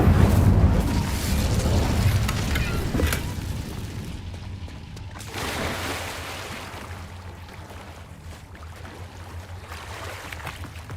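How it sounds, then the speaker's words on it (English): A casting of the Incendio fire spell in Hogwarts Legacy: a broad roaring, whooshing blast of flame that swells loudly at the start and trails off into a sustained rumbling wash. "Incendio!"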